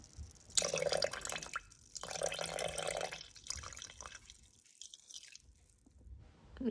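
Water pours into a Thermomix bowl for a simple homemade Nutella recipe, making two close, moderately loud splashing bursts with a brief pause between them, then a softer trickle that fades out, with no talking.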